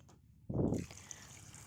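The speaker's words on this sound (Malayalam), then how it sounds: "ഒരു 3/4 ഗ്ലാസ് വെള്ളം ഒഴിച്ച് കൊടുക്കുക." A short splash of water pours into a pressure cooker holding jackfruit seeds, one brief, close gush lasting under half a second before fading into quiet room noise.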